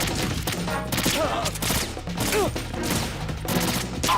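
Video game gunfire rattles in rapid overlapping volleys with a few sharp ricochet-like whines, forming a steady, busy layer of shooting under a game soundtrack.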